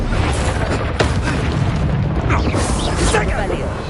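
Heavy booming blasts from the Confringo spell in Hogwarts Legacy rumble continuously under a raised voice, with dense, sustained explosive noise throughout.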